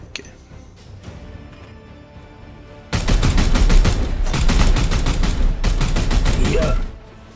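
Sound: suppressive gunfire in Warhammer 40k Chaos Gate video game

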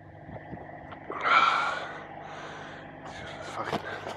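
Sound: heavy panting after exertion

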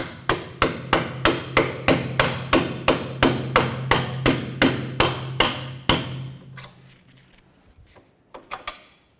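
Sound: hammering a punch to drive a bolt through

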